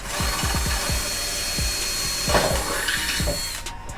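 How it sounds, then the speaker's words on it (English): A power drill with a larger bit whirs steadily into material for a fish fry system nearby, with a series of sharp clicks at the start and rough grinding as it bores through. "we've got the bigger drill bit. Let's test it now"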